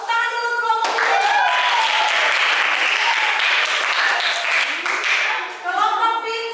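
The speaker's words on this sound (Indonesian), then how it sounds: "Tepuk tangan dulu untuk kelompok biru." A classroom of students applauds a group during a team games tournament lesson, with steady, dense clapping filling the room nearly throughout and a voice heard briefly at the start and end.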